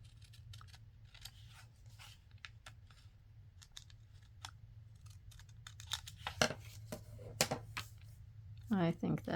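Scissors snip paper for a fold-out fall-themed card, with a run of short, close cuts spread over several seconds. Some are soft and a few are crisper, over a low hum and a brief voice at the end.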